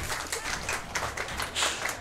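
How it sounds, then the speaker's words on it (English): An audience at a live speedrunning charity event claps in a steady patter of applause, moderately loud and continuous, with no talk over it. "Keep clapping!"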